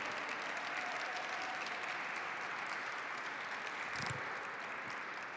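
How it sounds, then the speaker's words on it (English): Audience applause at a Lunar New Year celebration following a lion dance, steady dense clapping from a crowd heard at a moderate distance and fairly quiet throughout. "Let's give another big round of applause to Lion Dance Me."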